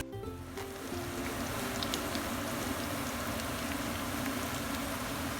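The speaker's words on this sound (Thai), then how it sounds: "ทอดไปเรื่อยๆค่ะจนเขาจะกรอบนะคะ ไว้นะคะจนกว่าจะกรอบนะคะ" Rice fries in hot oil over medium heat until crisp for a fried-rice salad with fermented pork. A dense, steady sizzle and crackle continues close-up throughout, with no voices.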